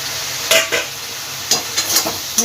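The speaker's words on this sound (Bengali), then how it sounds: "এবার আমি আঁচটা জোর দিয়ে দেবো দিয়ে ভালোভাবে কষিয়ে নেব তো চিংড়ি মাছটা যেটা ভেজে রেখেছিলাম সেটাও দিয়ে দেব" Shrimp fry on high heat in a snake gourd dish while a utensil stirs, giving a loud, close sizzle broken by several sharp scraping strokes against the pan.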